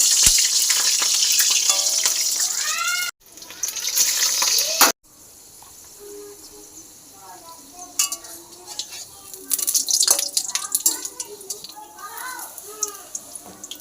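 Water lily flower fritters fry one at a time in oil, a loud crackling sizzle with pan and utensil clinks beneath a person talking.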